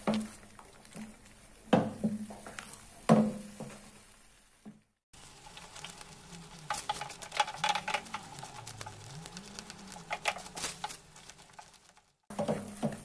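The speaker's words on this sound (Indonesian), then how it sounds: "Sambil kita aduk-aduk terus" Thick durian custard is stirred in a wok with soft scraping and sizzling, punctuated by a few sharp clanks of a utensil against metal.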